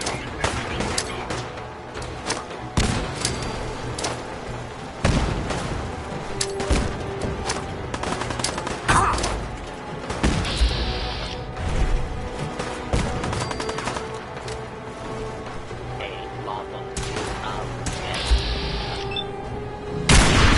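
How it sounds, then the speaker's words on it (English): Cannons firing in a video game battle, a dense barrage of loud booms and sharp blasts in rapid, irregular bursts, with a low rumble and occasional voices underneath. "The cannons are ready. Blast them with everything we got."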